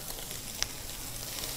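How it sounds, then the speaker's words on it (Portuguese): Food for fried rice sizzles in a large pan over high heat, a soft, steady crackling hiss with one brief sharp pop, faint and alone without speech. "A gente não quer cozinhar, a gente quer fritar tudo, né?"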